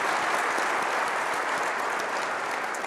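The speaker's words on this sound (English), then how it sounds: "can we just get a round of applause for all these folks that took a chance at us" Audience applause fills a keynote hall at a cloud native conference, steady dense clapping from many people throughout, loud and continuous with no voices over it.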